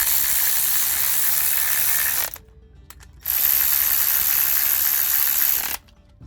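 A ratchet tightens 12 mm bolts on a car's new fuel filter heater, a fast close clicking pawl rattle in two bursts separated by a short pause.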